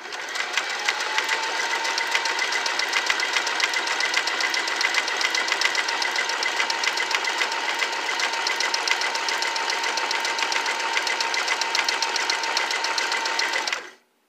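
Singer Simple 3337 sewing machine running a selected decorative stitch, a close, steady rapid needle clatter over a motor hum that continues without a break for about fourteen seconds before stopping abruptly.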